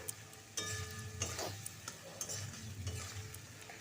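Ginger and green chilli paste with a splash of water is stirred and sautéed in oil in a pan, a steady sizzle broken by spoon scrapes and clinks against the pan, close and fairly quiet, with no talking.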